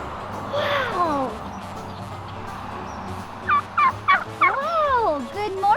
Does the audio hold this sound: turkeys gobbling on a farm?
yes